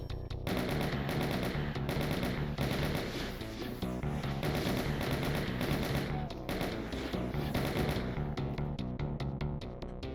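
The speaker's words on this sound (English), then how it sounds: "And now we're actually good to kill those imps right now." Rapid gunfire from the video game Doom II, blasting imps during the Legacy of Rust level, rattles in dense continuous bursts over loud game music throughout.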